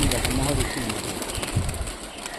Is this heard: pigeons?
yes